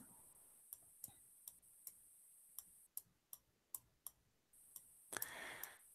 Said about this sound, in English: You can hear my mouse clicking away here, trying to write nicely here.